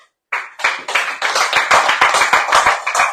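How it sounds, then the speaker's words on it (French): Applause from a radio bistro audience, starting abruptly after a brief silence as a dense, loud clatter of many hands clapping close by, holding steady to the end. "alors on les applaudit"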